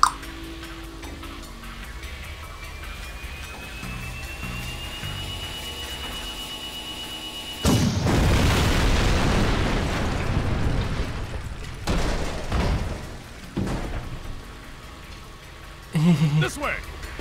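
A tank is blown up in the video game Jak 2: a loud, sudden burst of broadband noise that rumbles on for several seconds, then breaks into further crashing hits, following quieter game sounds and a rising tone.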